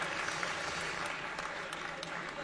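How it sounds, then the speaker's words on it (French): Audience applause for a presenter at a French-speaking talk, a steady dense wash of many hands clapping at moderate level, sustained without pause through the whole stretch. "Je vous prie de lui faire un tonnerre d'applaudissements à Jean-Marc Sabatier."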